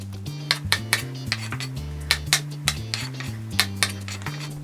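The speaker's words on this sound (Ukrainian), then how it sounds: "Далі підготували, почистили наші печериці, нарізаємо їх." A knife slices peeled champignon mushrooms into thin slices on a board, giving a quick series of crisp, evenly spaced taps, fairly close, over steady background music.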